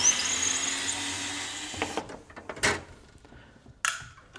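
A drill whirs steadily for about two seconds as it backs wood screws out of the trim on a Whirlpool WOS51EC0HS built-in oven, then stops, leaving scattered clicks and handling noises.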